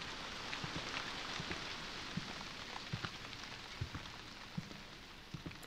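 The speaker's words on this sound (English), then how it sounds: "Why is there rain coming through the roof?" Steady rain pours and drips through a leaking roof inside a school building in the horror game White Day: A Labyrinth Named School, a continuous hiss broken by scattered heavier drop impacts.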